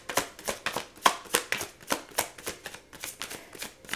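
A deck of tarot cards is handled and riffled during a card reading, a close, brisk run of rapid papery flicks in an even rhythm with no voice.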